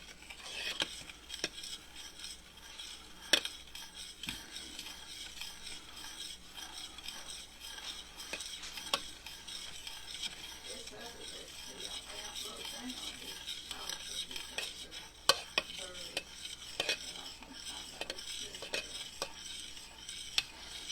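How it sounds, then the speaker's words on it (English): A spoon scrapes and stirs through boiling strawberry freezer preserves in a pot, making repeated soft knocks against the pot over a faint bubbling sizzle, with occasional quiet talk. "See, it's still boiling when I'm stirring."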